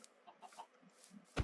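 A few soft, clipped clucks from video game chickens, spaced out and faint, ending in a sudden loud thump or burst of noise.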